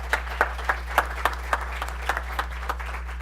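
Sparse, scattered hand claps from a small audience greeting a panel at a policy talk, a dozen or so separate claps spaced unevenly over a steady low electrical hum, with no talking.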